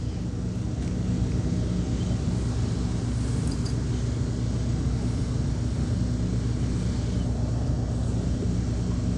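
Steady low droning of a neighbor's running generator fills an outdoor setting, an unbroken rumbling hum at moderate level, heard alone without speech.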